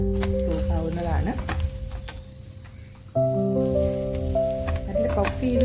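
Chapati frying in oil on a hot pan: a steady sizzle with occasional stirring or scraping, partly masked by sustained tonal background sounds that step up partway through.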